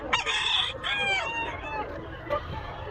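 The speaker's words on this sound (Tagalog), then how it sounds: "Dito mga manok." Roosters crow loudly and close by among clucking chickens at a rainy animal market in Bocaue, with a voice briefly audible in the busy background.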